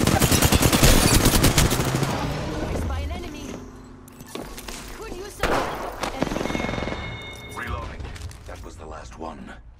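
Rapid gunfire in Apex Legends, dense automatic bursts that dominate the opening seconds before thinning into scattered shots, clicks and game effects, with a character voice calling out over the action.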